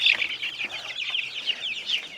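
A hybrid chicken with multicoloured wings clucks and squawks continuously while being picked up, close and fairly loud, with a brief flap of wings near the start.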